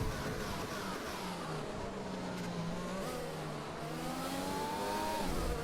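A Formula 1 race car in F1 2020 at Monza screams down the main straight, its engine note climbing steadily through the gears, loud and close with a constant high whine.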